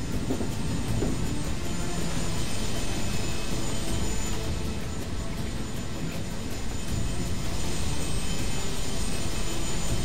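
Aircraft jet engines in Medal of Honor: Warfighter, a continuous loud broadband roar with a steady high whine, heard from inside the plane without interruption.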